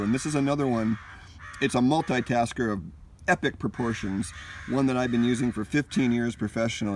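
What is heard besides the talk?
crows cawing in the background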